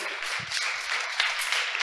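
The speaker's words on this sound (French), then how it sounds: "On peut les applaudir." An audience applauds students at an international weather and climate forum prize ceremony, a dense, steady burst of clapping throughout.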